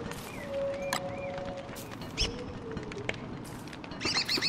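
A bird in the Don't Starve video game gives a few thin chirps and whistled calls over a steady game backdrop, with a brighter flurry of tweets near the end.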